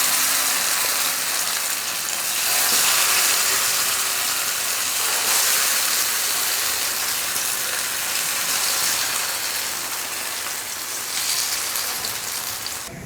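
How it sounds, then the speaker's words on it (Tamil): Raw banana slices frying in hot oil, a steady, loud hiss and crackle of sizzling that continues throughout without pause or voices. "மறுபடியும் இதையும் மீதி இருக்கிறதையும் பொரிச்சு எடுத்துக்கலாம்."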